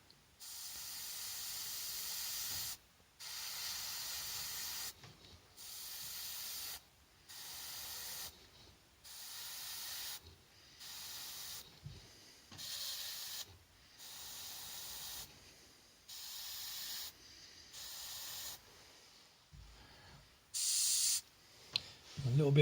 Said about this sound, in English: where these lines are here is where we want to put our little bit of spray in that area